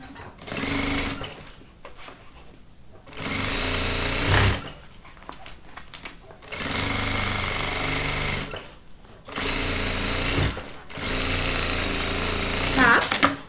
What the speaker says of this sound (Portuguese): Vou passar uma costurinha de segurança aqui.